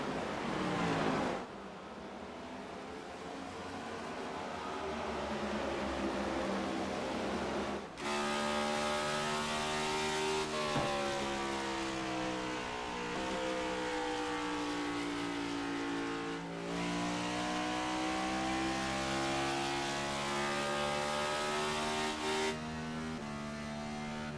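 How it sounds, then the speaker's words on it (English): Race cars circling Phoenix in the sim racing game iRacing roar in a loud, sustained engine drone, their pitch rising and falling as the cars shift and pass, with a sharp cut about eight seconds in. "we're going to go and listen to just the beautiful sounds of these cars"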